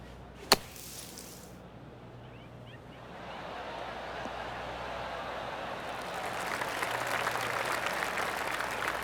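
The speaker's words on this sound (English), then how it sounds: "Oh, golf clap." Polite golf clap from a gallery in a PC golf video game after a third shot on a par 5, a soft, steady wash of distant applause that swells and thickens toward the end, following a single sharp click near the start.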